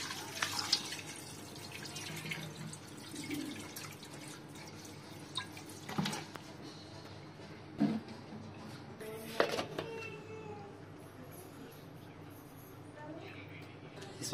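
Water is poured into a pressure cooker holding washed food, giving soft splashes and drips in a quiet kitchen, with a few sharper clinks, while a voice talks quietly over it.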